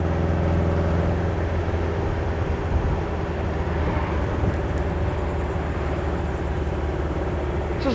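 A 1972 Volkswagen dune buggy's engine drones steadily while cruising at speed, a constant mid-level rumble mixed with wind and road noise, unbroken for the whole stretch.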